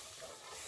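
Brief, faint hissing swirl of milk sauce being stirred in a pan, a soft steady texture with no voices.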